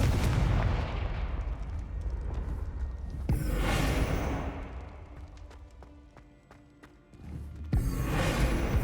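A Confringo fire spell from the Hogwarts Legacy video game bursts out in loud explosive blasts, with a sharp boom near the start, another around the middle and a final burst at the end over continuous game ambience.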